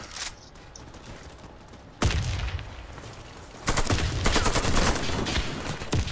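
Bursts of rapid AK-103 gunfire in the video game Warface crackle loudly, first a steady rattle, then a sharp louder volley that keeps going, with shots overlapping in a dense fusillade.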